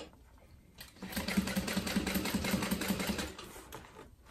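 A sewing machine stitches a zip-top tote bag of slinky exterior fabric in a rapid, even run of needle strokes. The burst is close and clear, lasts about three seconds, and has no talk over it.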